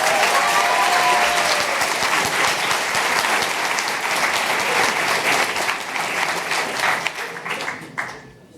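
An audience at a graduation ceremony applauds loudly and steadily, dense clapping filling the room for several seconds before thinning and tapering off near the end.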